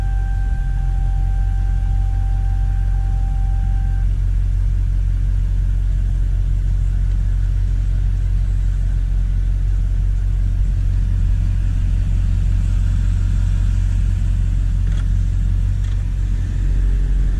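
HVAC blower fan in a 2003-06 Chevy Silverado turned up to speed 4, a loud, constant low rushing roar of air filling the cab, with a faint engine rumble beneath and no talk.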